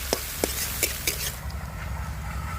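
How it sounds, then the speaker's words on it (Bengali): Chopped onions fry in oil after ginger and garlic, giving a soft steady sizzle that opens with a few sharp stirring clicks and then settles into a quiet hiss. "এবার কুচানো পেঁয়াজ কুচি দিয়ে দিচ্ছি। পেঁয়াজটা ওরকম লাল লাল করে ভেজে নেব।"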